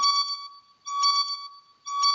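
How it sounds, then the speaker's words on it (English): Electronic alarm beeping in loud repeating bursts, about three in just over two seconds, each a steady high tone with bright harmonics and short gaps between, heard alone. "The alarm's gone off."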